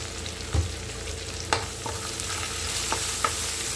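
Curry leaves, ginger and coriander leaves fry in hot oil for sambar, giving a steady soft sizzle and crackle with a few sharp stirring clicks of a spoon against the pan, close and unaccompanied by talking.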